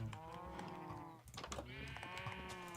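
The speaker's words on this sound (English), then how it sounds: "I'll show you why the sheep are so noisy." Several sheep from a full flock of 16 in Minecraft bleat in a steady overlapping chorus of tonal, wavering calls, close and continuous with no talking.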